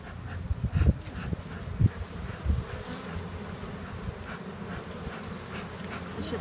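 Honey bees buzzing inside a beehive on a farm, a steady low hum of many insects with occasional louder thumps and knocks from nearby handling of the hive.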